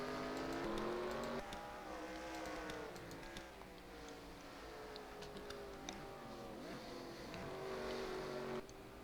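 A race car runs down pit road during the 2015 24 Hours of Sonoma endurance race. Its engine drones and climbs in pitch, sounding fairly faint and distant, with no voices heard.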